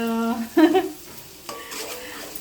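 Whole spices for tempering hit hot oil in a home kitchen while a chicken meal is cooked, giving a sudden close burst of loud sizzling that settles into softer frying and stirring.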